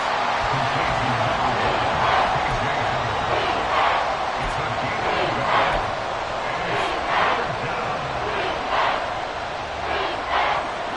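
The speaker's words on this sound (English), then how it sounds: "The Arrowhead crowd in full roar." At Arrowhead Stadium, a big American football crowd roars steadily for the full stretch, a dense, continuous wash of noise with swelling surges and a voice faintly under it.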